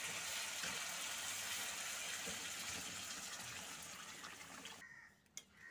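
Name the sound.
pouring water into pan for thin fish curry broth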